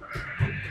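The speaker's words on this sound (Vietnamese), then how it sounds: "Chim cò." A single crow-like caw from a bird in the 7 Days To Die video game, brief and fairly clear against a low game background.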